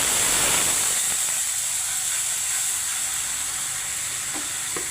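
Water hits hot masala in a pan for Bengali-style katla fish kalia, a loud burst of hissing sizzle that slowly settles into a steady bubbling fizz, with a few faint clicks of a spoon.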